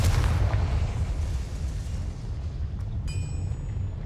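A Confringo blasting spell explodes in the video game Hogwarts Legacy: a deep, rumbling boom hits at the start and rolls away into a long low decay, with a short bright chime-like ring appearing near the end.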